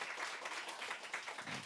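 A church congregation claps again after being urged to clap louder, producing a dense, even wash of applause at moderate volume, with no one speaking over it.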